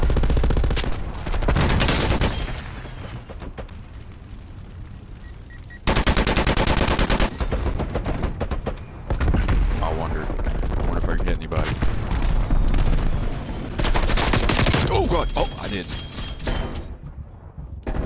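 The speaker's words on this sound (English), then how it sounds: "I was shooting right at the thing." Rapid automatic gunfire rattles through a Call of Duty Black Ops Cold War match in loud sustained bursts, with short breaks between volleys and constant game noise underneath.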